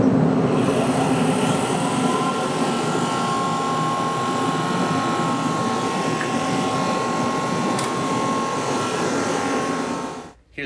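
A four-cylinder hydrocarbon recovery pump runs on butane, giving a steady, loud mechanical drone with a sustained hum and faint tonal whine that continues throughout before cutting off abruptly near the end.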